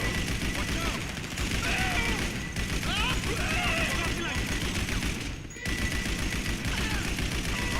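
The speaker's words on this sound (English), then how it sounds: "This is the worst machine gun ever." A machine gun in GTA 5 Online fires long automatic bursts, a rapid crackle of shots continuing for several seconds with short pauses, heard beneath talking voices.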